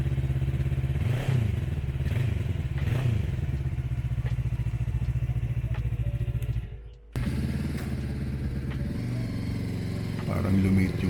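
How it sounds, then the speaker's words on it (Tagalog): Motorcycles being test driven: steady engine drone with rising and falling revs, some clatter and thumps, close by, a brief dip near the middle, and people talking underneath. "Saktong-sakto meron silang test drive ng mga motor nila."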